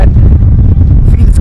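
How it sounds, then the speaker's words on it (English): Strong wind on a foggy coast at Europe's western end near Lisbon, Portugal, batters the microphone with a loud, low, rumbling roar that pulses unevenly through the short moment. "It's so windy here"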